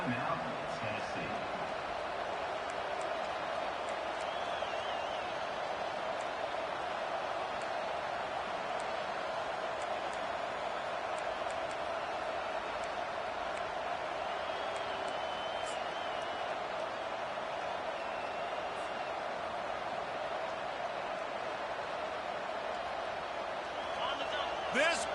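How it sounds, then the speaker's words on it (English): Roaring stadium crowd at a Tennessee vs Texas Tech college football video game, a steady loud wall of cheering that holds for the whole stretch under a fourth-down stop attempt. "This crowd busting the decibel meter and trying to will a fourth down stop."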